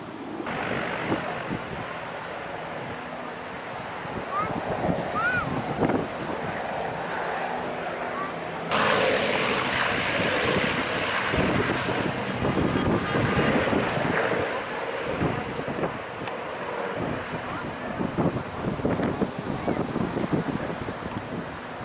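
Strong wind roars and buffets the microphone continuously during an evening wildfire in Datça, with a heavy rushing, surf-like texture throughout and no speech.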